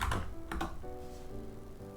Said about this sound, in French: le clavier est plus fort que d'habitude